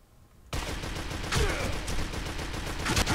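Rapid automatic gunfire from the shooter video game District 187, starting abruptly after a half-second of near silence and continuing as a loud, dense fusillade of overlapping shots with no speech.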